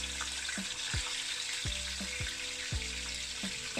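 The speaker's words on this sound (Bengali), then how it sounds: "আমার চিকেন আর চিংড়ি মাছ ম্যারিনেট করে রেখেছিলাম, আমার 1 মিনিট হয়ে গেছে। এখন আমি এগুলো দিয়ে আমি একটু ভেজে নেব।" Marinated chicken and shrimp sizzle in hot oil, a steady close crackle broken by several sharp scrapes and clatters from a utensil in the pan.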